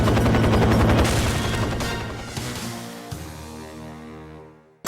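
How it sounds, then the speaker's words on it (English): A loud blast and burst of gunfire from a helicopter being destroyed in the James Bond game 007 Nightfire, roaring at first and then fading into a rumbling, crackling tail. "you shoot a bunch of people, and you blow up a helicopter"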